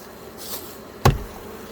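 Honeybees buzz softly around a hive, a brief hum interrupted by one sharp knock partway through.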